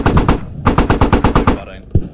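Automatic gunfire in the military shooter Squad, two rapid bursts of sharp close shots, about four then nine rounds, followed by a single later shot and no talking.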